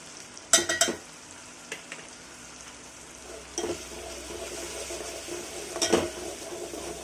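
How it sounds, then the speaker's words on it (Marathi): Garam masala and ginger garlic paste fry in a pan for Maharashtrian chicken curry, giving a soft continuous sizzle broken by a few clinks and scrapes of a spoon, close and fairly quiet. "हे छानपैकी अद्रक लसूणच्या पेस्ट सोबत मसाला परतून घ्यायचा आहे."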